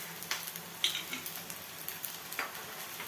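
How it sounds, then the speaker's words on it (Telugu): Baby corn fried rice is stir-fried on a high flame, a steady sizzle broken by quick scraping stirs of the spatula in the pan. "ఇప్పుడు ఇవన్నీ కలిసేలాగా బాగా కలుపు హై ఫ్లేమ్ మీద బాగా ఫాస్ట్ చేసుకోండి"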